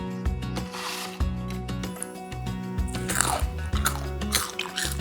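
Store-bought fries dipped in homemade banana ketchup are eaten close up, with repeated crisp crunching bites and steady chewing throughout.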